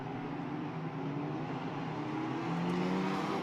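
Formula race cars blast past the commentary box at Portimão, a steady engine whine that swells slightly toward the end.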